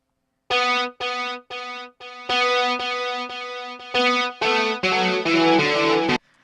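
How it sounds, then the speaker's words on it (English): A guitar riff with a delay echo effect plays in distinct, sharply cut phrases. Each note carries trailing repeats, and the pattern grows denser and louder toward the end before stopping abruptly. "I'm going to hit the period on the numeric keypad again to preview my audio with the delay."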